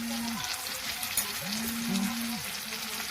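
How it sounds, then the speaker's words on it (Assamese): A continuous crackling sizzle of tomatoes frying in a pan, steady and close, with a low tonal hum rising and falling behind it. "বিলাহীখিনি অলপ ভাজিম"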